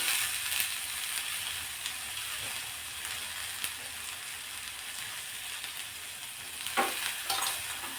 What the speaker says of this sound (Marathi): आता या फोडणीमध्ये हे वालाचे जे दाणे आहेत किंवा सोले ते टाकायचे